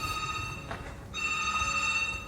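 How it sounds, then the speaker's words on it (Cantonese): A telephone rings loudly and steadily in a hotel corridor, with two bursts of bell-like tones separated by a short gap and faint background hiss. "咁大聲嘅走廊電話響"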